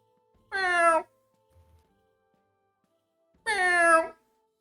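A human voice imitates a cat, giving two separate drawn-out meows spaced a few seconds apart, each close and clear against near silence.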